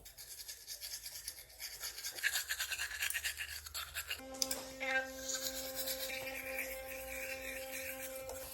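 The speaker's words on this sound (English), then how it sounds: "Get your toothbrush." A child brushing their teeth with a toothbrush makes close, rhythmic scrubbing strokes for the first half. A steady humming tone follows, and faint voices sound in the background.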